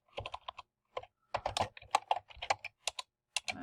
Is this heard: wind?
no